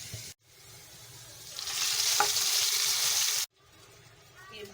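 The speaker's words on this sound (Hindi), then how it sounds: "अब हम भगार लगाएंगे इसका हलीम में।" Onions fried golden in hot ghee hiss and sizzle loudly as the tempering is poured into haleem, a burst of steady crackling that cuts off abruptly.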